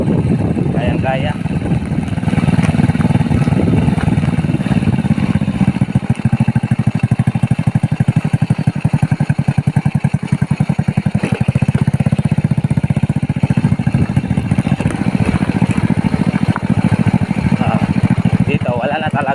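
A motorcycle engine drones steadily, loud and close, as it rides along a rough, neglected grassy road with no pavement, its rumble wavering over the bumps while someone talks over it at times.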